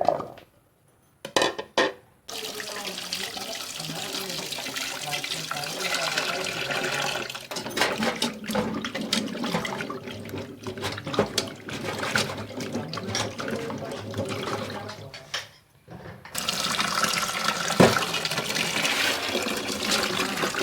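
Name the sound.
washing cut tapioca pieces in water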